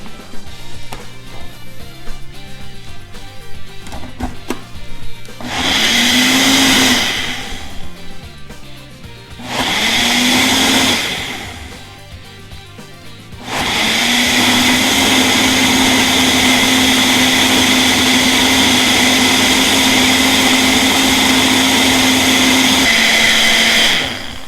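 Kitchen blender whirring loudly through fermented Thai plum hot sauce in three bursts, two short runs and then a long steady spin, close and dominant.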